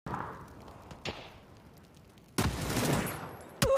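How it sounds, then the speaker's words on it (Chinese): Battle royale video game combat with a grenade and gunfire: scattered sharp shots early, then a loud burst of rapid gunfire with a final close blast, under no talk. "这手雷加枪"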